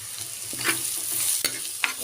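Onion, ginger and green chili sizzle in a hot pan for a shark curry, a steady close frying hiss broken by a few sharp stirring scrapes.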